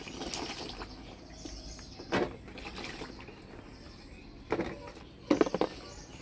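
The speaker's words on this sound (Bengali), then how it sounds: "এবার পরিষ্কার করে ধুয়ে নেব।" Pointed gourds (potol) are rinsed in water by hand, giving soft sloshing and a few brief splashy bursts, fairly close, over quiet outdoor background with faint birds.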